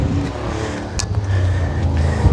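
A Toyota Tundra pickup runs at a vehicle auction, a loud, close engine drone with a rising steady hum and a few sharp clanks amid the lot's background noise.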